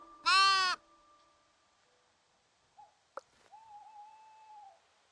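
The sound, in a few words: sheep bleating in the video game Tiny Glade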